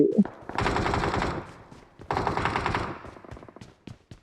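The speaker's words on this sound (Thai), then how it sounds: "ยิงกระจุยหมดอะ" Two long bursts of automatic gunfire from a video game, loud and close, each a rapid continuous rattle lasting about a second, followed by a few scattered single shots.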